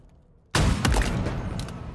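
A sniper rifle fires in the video game Halo Infinite: one loud, sudden blast breaks a quiet stretch and rolls into a dense, sustained rumble with a few crackling peaks.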